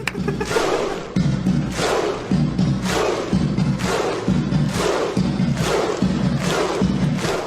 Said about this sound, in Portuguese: até com um aplauso viking